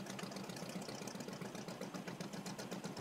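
An old fishing cutter's diesel engine in Fishing Barents Sea chugs at a steady rapid knocking rhythm, close and fairly quiet with no other sounds.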